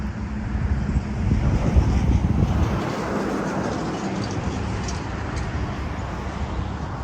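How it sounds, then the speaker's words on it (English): Steady wind blowing across an outdoor cemetery on a breezy December day, a loud continuous rumble and rush buffeting the microphone with no clear breaks. "Today's a little bit nice and breezy."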